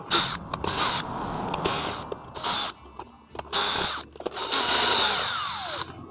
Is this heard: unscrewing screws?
yes